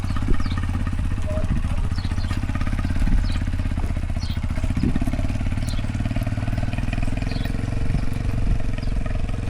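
A learner rider's motorbike engine runs steadily at close range, a low continuous rumble with a busy, pulsing texture and no talking.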